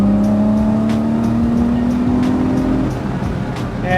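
A BMW E30 with Recaro front seats pulls hard under acceleration, its engine note a steady loud drone that rises slowly in pitch before easing off, heard from inside the cabin.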